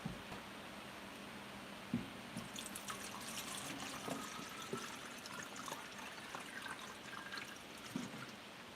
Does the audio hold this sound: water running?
yes